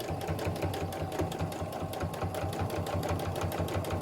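Kenmore 385 series sewing machine running steadily while stitching with a twin needle, a continuous fast mechanical whir with rapid regular needle clatter throughout, close and fairly loud, with no talk.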